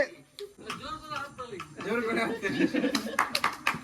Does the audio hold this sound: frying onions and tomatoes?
no